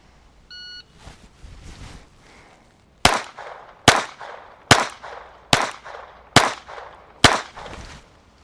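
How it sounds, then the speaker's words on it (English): A pocket pistol is fired at long range during a police qualification drill, with a short electronic beep, then six loud, evenly spaced shots about a second apart, each sharp crack followed by a brief decay. "So let's try this long range shot here."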